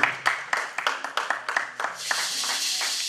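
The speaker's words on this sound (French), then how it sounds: "Applaudissons la parole de Dieu." A church congregation claps in rhythmic unison, steady sharp beats that blend into a continuous wash of applause toward the end.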